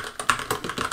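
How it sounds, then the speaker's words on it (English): Vigorous, fast typing on a computer keyboard: a dense run of sharp, close key clicks in an irregular rhythm over about a second, with no voices. "Typing vigorously, go."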